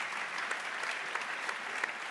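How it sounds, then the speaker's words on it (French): Church audience at a Christian gathering applauding in praise, a soft, even patter of many hands clapping at some distance, continuous with a few sharper claps standing out. "on peut applaudir le Seigneur."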